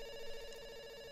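A telephone ringing in a video game, a steady electronic ring tone with a bright sustained pitch and harmonics, faint and even, heard alone.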